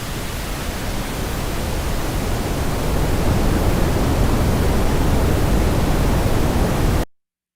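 Continuous loud pink noise hiss that grows slightly fuller in the lows midway as the low end is boosted, then cuts off abruptly near the end.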